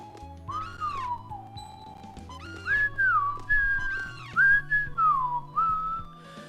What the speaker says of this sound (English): My whistling is terrible.